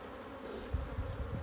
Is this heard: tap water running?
no